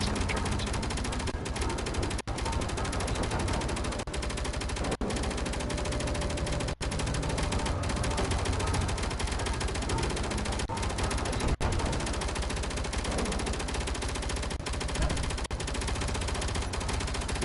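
Relentless automatic gunfire from a video game, dense and loud, running without pause as a continuous wall of rapid shots throughout.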